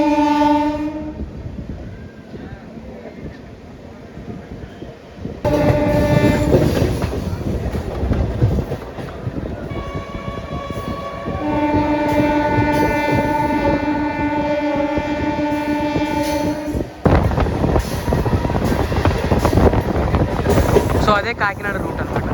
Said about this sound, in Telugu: జస్ట్ 3 మినిట్స్ స్టాప్ తో సామర్లకోట జంక్షన్ అయితే స్టార్ట్ అయిపోయాం.